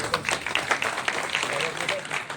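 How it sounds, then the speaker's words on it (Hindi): An audience applauds at an Agrawal community ceremony honouring meritorious students, with dense, steady clapping running throughout while someone talks over it on a microphone. "ताली बजाते रहिए।"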